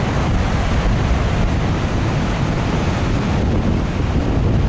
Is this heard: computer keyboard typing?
no